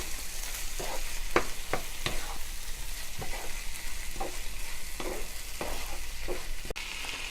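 Prawns for a Tamil-style prawn thokku sizzle in a pan while being mixed, with repeated scraping strokes of the spoon over a constant close frying hiss.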